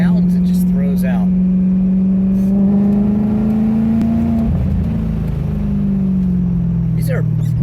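A Maserati with the CambioCorsa gearbox and a Fab Speed exhaust drones close and loud, its engine note holding steady, then shifting sharply in pitch mid-clip as it downshifts, continuing afterward.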